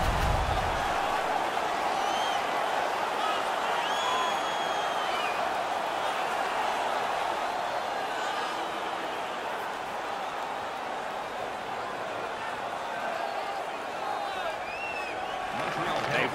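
A hockey arena crowd at a Toronto Maple Leafs versus Montreal Canadiens game keeps up a steady, dense roar and murmur the whole time, with no distinct peaks.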